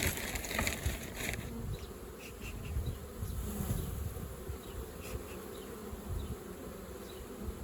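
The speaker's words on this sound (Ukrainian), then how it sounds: "Трохи більше бджіл." Honey bees buzzing around a beehive nucleus colony, a dense close hum of many wings with individual bees passing near, steady throughout with no voices.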